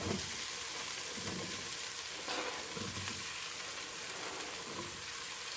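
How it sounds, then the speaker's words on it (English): Chopped squash hits a hot frying pan and sizzles loudly, with stirring scrapes and bursts of crackle over a continuous fry. "And now I'm going to add the chopped up squash."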